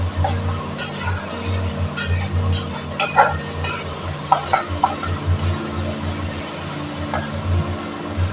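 Spiced masala for egg biryani stirred and fried in a pan, with a steady soft sizzle underneath and repeated sharp scrapes and clinks of a spoon against the metal, closely heard.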